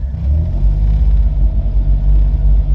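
An Autozam AZ-1 engine running rough on a Keisport ECU is held at a bit of throttle, giving a deep, loud, uneven rumble that pulses and wavers.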